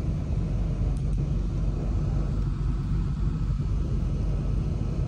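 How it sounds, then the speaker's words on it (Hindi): Heavy evening traffic jam in Kuala Lumpur, a steady low rumble of idling and crawling engines that hangs at an even loudness throughout, with no voices heard. "सी इस टाइम जो है ट्रैफिक बहुत जैम है।"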